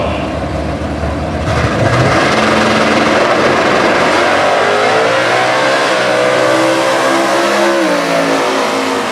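A supercharged 2015 COPO Camaro with a 350 combo launches in Stock Eliminator drag racing at the US Nationals, its engine roaring loud and close, then rising in pitch through the gears as it pulls away, with no talk over it.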